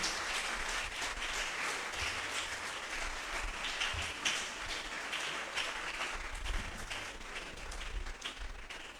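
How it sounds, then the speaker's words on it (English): An audience at a school quarter-final event gives sustained applause, a dense, continuous wash of clapping that runs the full length at a fairly even level. "Please don't stop clapping till they get here."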